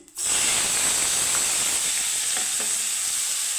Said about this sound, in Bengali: পেঁয়াজটাকে আমি লাল করে ভেজে নিচ্ছি